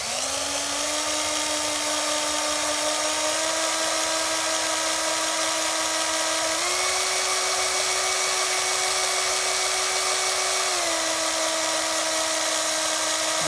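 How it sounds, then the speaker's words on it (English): Steady high whine of a drill boring through glass with water cooling, running continuously near the mic with a slight pitch step midway as the load changes, with no talk. "You don't want to use all the speed the drill has."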